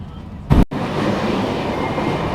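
A high-speed train running from Casablanca to Rabat in Morocco, heard from onboard: a steady loud rolling roar broken by a brief burst and a split-second dropout before the rumble resumes.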